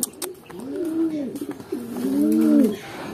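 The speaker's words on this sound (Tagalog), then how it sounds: "So ito yung mga ibon na bagong walay natin." Pigeons coo close by in two throaty, rolling phrases, the second fuller and longer, with a few faint clicks and rustles around them.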